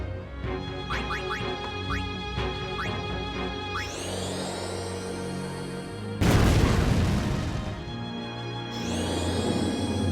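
A regular grenade thrown in Final Fantasy X on Mount Gagazet bursts into one loud, booming blast midway, cutting through chirpy game effects and background music.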